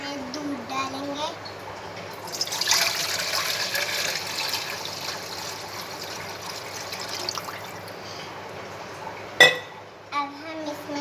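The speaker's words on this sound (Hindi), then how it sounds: "अब हम सबसे पहले दूध की रबड़ी तैयार करेंगे। इसमें दूध डालेंगे" Milk poured into a pan to make rabdi: a steady liquid trickle and splash runs for several seconds, close by, with a voice talking over it and a sharp clink of the pan near the end.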